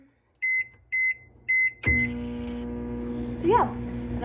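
A microwave oven heating lunch gives three short beeps as its keypad is pressed. Then comes a steady, close hum as it starts running, with a voice speaking briefly over the drone.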